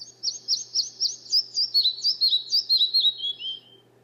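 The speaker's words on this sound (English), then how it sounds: "that's a nice little bird sound" A small bird's recorded chirping song plays back as a clear run of about fifteen quick, high tweets, falling slightly in pitch toward the end, over a faint steady hum.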